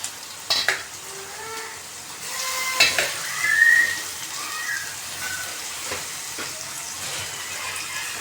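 Onion, capsicum and freshly added tomatoes for pav bhaji fry in oil, a steady moderate sizzle broken by stirring scrapes and clinks of the spoon against the pan.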